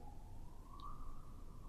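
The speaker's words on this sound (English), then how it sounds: "Sorry about that siren." A faint siren wails in the distance, a thin steady tone rising slightly over constant low background rumble.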